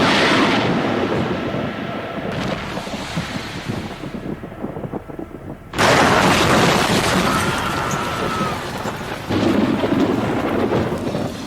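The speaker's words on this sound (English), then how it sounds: "The nuclear blast is loud enough to deafen my spectral ears." A loud nuclear blast in a dramatic audio production booms and roars with a heavy, wind-like rumble, dipping briefly before a second powerful surge of roaring noise around the middle, no speech.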